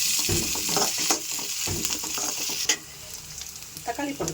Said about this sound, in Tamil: நல்லா வதக்கிக்கலாம். கொஞ்சமாக இஞ்சி பூண்டு போட்டுக்கலாங்க,